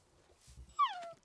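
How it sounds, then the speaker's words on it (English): A tamed wolf in a blocky survival video game whimpers once, a short high whining cry rising after a few soft low thuds, near and clear. "Is this wolf not tamed by me?"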